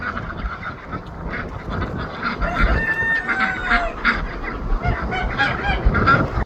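A flock of geese and other fowl honk and chatter continuously as they leave their pen on a cold, windy homestead, close and busy with overlapping calls.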